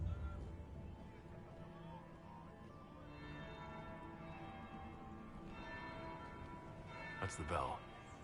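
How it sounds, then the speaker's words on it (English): A bell tolls in the video game Dragon Age Inquisition, low resonant strikes ringing under a bed of ambient game sound and voices talking. "That's the bell."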